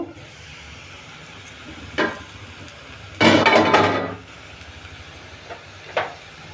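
Onions fry in a covered pan while making a home-cooked dish: a few sharp metallic clanks of the lid and utensils, then a loud burst of sizzling for about a second before it drops back to a quiet hiss.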